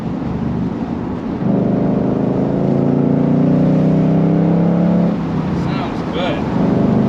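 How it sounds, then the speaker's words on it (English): A Ford Mustang GT convertible with a manual transmission accelerates hard through the gears, its V8 exhaust rising in a loud, steady roar before easing off and shifting near the end. "But it sure is fun to accelerate fast, roll through those gears on a nice day."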